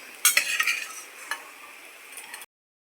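Dry crackling and scraping as edible gum roasts in a pan, with a few sharper clicks of stirring early on, fairly quiet, ending abruptly.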